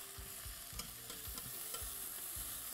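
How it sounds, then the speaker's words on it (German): Carrots and onions fry in a little oil in a soup pot, a quiet, even sizzle broken by rhythmic stirring scrapes, with no voices. "Ca. 7-8 Minuten anbraten."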